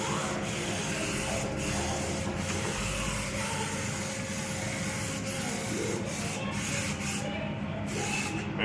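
A spray gun hisses steadily as primer is applied to a car quarter panel from about six to eight inches away, a continuous close airy spray with a low mechanical hum underneath.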